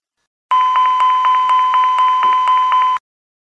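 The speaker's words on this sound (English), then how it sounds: "a warning or caution will be generated and displayed in the memo section" Airbus A320 takeoff configuration warning: a loud, steady electronic alarm tone pulsing in a regular rhythm, about ten evenly spaced beeps over roughly two and a half seconds, alone with no talk.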